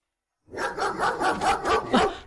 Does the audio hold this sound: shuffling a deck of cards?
no